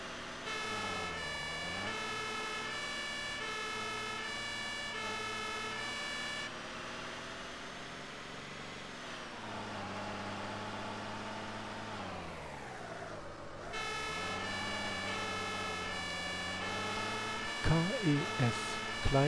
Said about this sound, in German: Ja, mit Martinshorn.